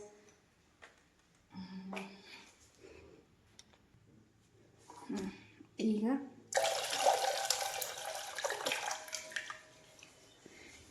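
Tender coconut water pours from freshly opened coconuts into a container, a broad splashing gush that swells loud in the latter half after quieter handling noises and brief clinks.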